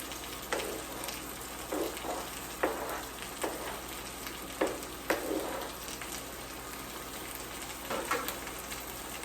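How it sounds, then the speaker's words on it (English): Garlic frying and being stirred in a pan, a steady soft sizzle broken by repeated brief scraping bursts of the utensil, close and fairly quiet, with no voices. "So I try to make sure my garlic is lying on top of something so I can make sure I keep stirring."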